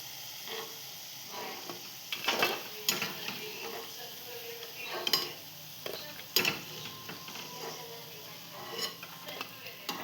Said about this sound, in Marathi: यांना पण आपण फ्राय करून घेणार